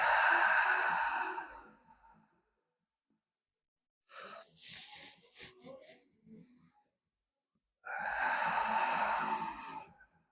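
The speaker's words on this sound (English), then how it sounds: "and then out for your mouth for 8." A slow, audible mouth exhale during 4-to-8 guided breathing in a full-body stretching routine, heard as two long breathy outbreaths with quieter rustling between them, close and fairly loud.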